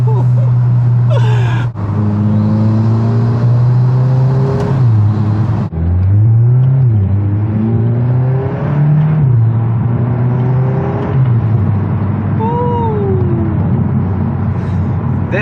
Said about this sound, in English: Let's get some turbo noises.